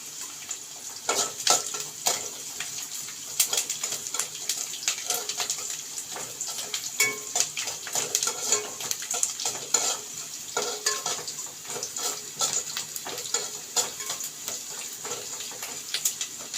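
Tomatoes sautéing with curry leaves in a pan, a steady crackling sizzle broken by repeated scrapes and clinks of a spoon stirring against metal, close and continuous with no talking.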